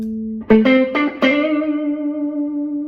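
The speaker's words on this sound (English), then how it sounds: "So here's with a single note, right? RC booster." An electric guitar through an RC Booster pedal into a Fender '59 Bassman LTD plays a few picked notes that settle into one fat, boosted note, sustaining loudly and slowly fading over a few seconds.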